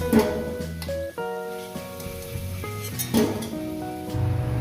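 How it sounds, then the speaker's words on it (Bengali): Potatoes frying in a pan while spicy chicken kosha is being cooked, giving a steady sizzle with a few light clinks and stirring sounds throughout. "ভেজে নেব আলুগুলো সুন্দর করে ভেজে"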